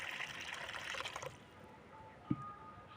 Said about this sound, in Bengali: এরপর এতে আমি আবার পরিষ্কার জল দিয়ে দিলাম